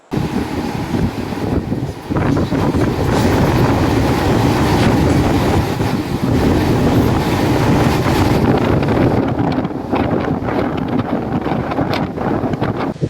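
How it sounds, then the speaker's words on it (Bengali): A Jaleswar local train running along the rails on the Howrah–Puri line, a steady loud rumble of wheels and carriage with wind buffeting the microphone throughout, no one speaking. "আমাদের জলেশ্বর লোকাল ছুটছে তার আপন গতিতে"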